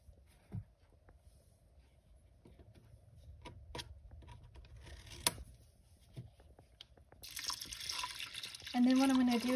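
Whole milk pours into a slow cooker as a short, close liquid rush near the end, after faint drips and small clinks in a quiet kitchen.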